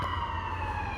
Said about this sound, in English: There goes the ambulance again.